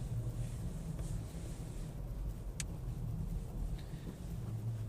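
A VW Golf pulls away gently on snowy winter roads, its low engine rumble steady and subdued under wind buffeting, with a sharp brief click partway through.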